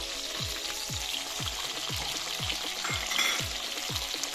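Tomatoes and onion crackle softly in a pan for paneer butter masala, an even low sizzle with a spoon stirring through it at a steady pace, fairly quiet and without talk.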